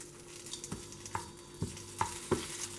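Curry leaves sizzling in hot oil in a cooking pan, a soft continuous fry hiss broken by several sharp, distinct pops and crackles spaced out over a couple of seconds, faint and close with no talking.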